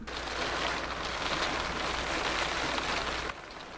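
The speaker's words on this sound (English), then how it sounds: "since it is still raining" Steady rain patters outside a truck camper, a dense even hiss heard from inside that continues for several seconds with no talk, dipping slightly near the end.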